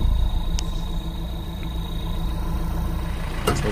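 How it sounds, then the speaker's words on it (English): Mahindra Roxor off-road vehicle engine idling after tuning, a steady low rumble heard up close outdoors with a constant hum and a couple of faint clicks. "So a little bit of the sound from the engine idling."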